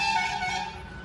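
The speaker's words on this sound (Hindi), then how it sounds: "इतना ज्यादा हॉर्न ये लोग बजाते हैं" Vehicle horns honking on a street in India at sunset, a steady sustained car horn tone heard from a rooftop, moderately loud with a bit of background traffic.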